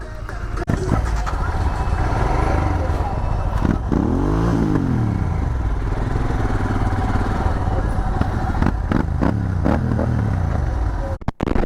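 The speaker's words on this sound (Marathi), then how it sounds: "इकडे तर काय नुसते आवाज येतात, सुपर बाईक सगळ्या" Superbike motorcycle engines rumble and rev loudly and close by on the Khandala ghat road near Lonavla. One bike rises and falls in pitch as it accelerates, under a steady mix of engine noise.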